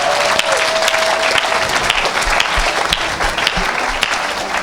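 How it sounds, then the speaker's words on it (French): A church congregation claps loudly and continuously, dense sustained applause with a few scattered sharper claps, close and filling the room. "Acclamez le Seigneur."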